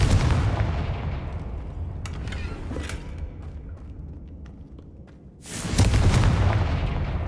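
A Confringo fire spell in the video game Hogwarts Legacy bursts with a loud, deep blast that rumbles away, followed by scattered cracks and a second heavy burst near the end.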